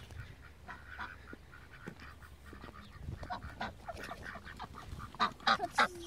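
Ducks quack in a scattered chorus, faint at first and growing louder and closer toward the end, with quick clustered calls.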